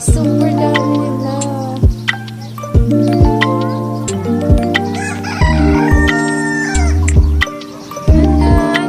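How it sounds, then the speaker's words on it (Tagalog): Large flock of native chickens on a farm, loud and close, with repeated clucking and several crows overlapping throughout, no talk. "Native na manok yan, guys."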